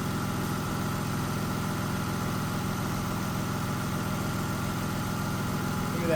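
A Lexus SC300 engine idles steadily with its air conditioning compressor running, an even low rumble and hum that holds at constant loudness throughout, with no talk over it.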